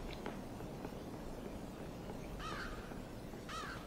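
Crows cawing in the dark puzzle video game Limbo, two faint harsh caws a second apart over a murky, rumbling ambient background.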